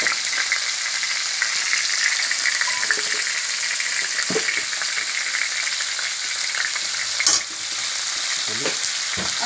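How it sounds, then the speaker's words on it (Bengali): Diced potato and pointed gourd fry in a pan for a vegetarian dish, a loud, steady close sizzle with occasional sharper clicks of a spatula, no voices over it. "এর মধ্যে আমি ডোমা ডোমা করে কেটে রাখা আলু পটলগুলো দিয়ে দিচ্ছি।"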